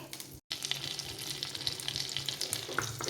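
Butter melting and sizzling in a pan for chicken thoran, a steady close crackle with a brief dropout near the start and scattered pops throughout.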